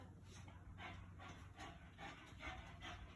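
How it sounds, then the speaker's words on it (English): A dog pants in rhythmic bursts close by, breathing loudly and steadily over a low indoor hum, with no talk. "my dog is being loud"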